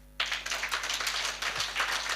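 A church congregation at a Sunday evening teaching service claps their hands, starting suddenly after a quiet moment and continuing as a brisk, fairly steady run of claps at moderate distance over a low hum.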